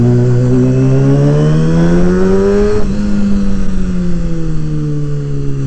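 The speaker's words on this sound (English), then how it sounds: "This bike just does not go in second gear. From first to second is a bitch." A motorcycle engine revs steadily, its pitch climbing, then dropping abruptly mid-clip as the rider struggles to shift from first into second gear, before settling back into a loud, continuous drone heard close up with no talk.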